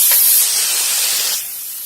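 Pecans sizzle and splatter in hot melted margarine, a bright steady hiss that is loudest at first and then eases to a softer sizzle.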